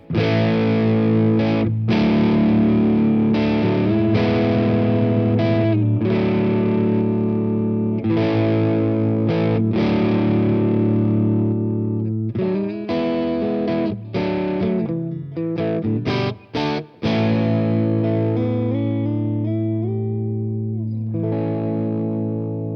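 Electric guitar on its middle pickup position played through distortion, chords and riffs ringing out with effects, loud and continuous with brief stops between phrases.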